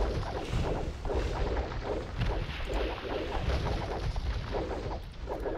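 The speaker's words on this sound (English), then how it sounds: "Red needs to get those fire galleys up right now if he knows it's good for him." Fire galleys clash in an Age of Empires II naval battle, with continuous booming projectile fire and rumbling impacts layered densely throughout, loud and steady with no voices.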